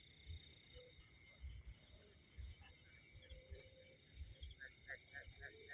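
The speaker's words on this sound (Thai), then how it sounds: "เสียงกบพี่น้อง เสียงกบ" Frogs croak at night in a rural field, giving faint, distant, repeated croaks. Steady insect chirring sits over them and the whole scene is quiet.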